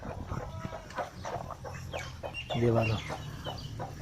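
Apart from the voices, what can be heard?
rooster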